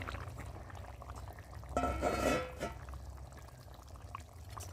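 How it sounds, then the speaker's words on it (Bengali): Fried parshe fish slides into a boiling curry of potato and eggplant, giving a brief splash and bubbling sizzle that swells for about a second over a low simmering background, with no talk. "এখন আমি ভেজে রাখা মাছগুলো দিয়ে ভালো করে ফুটিয়ে দেবো।"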